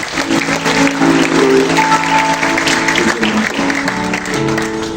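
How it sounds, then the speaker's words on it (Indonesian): Lively church congregation applause at a seventh-anniversary service, dense continuous clapping from a large crowd mixed with music playing throughout. "Boleh kasih tepuk tangan yang meriah saudara."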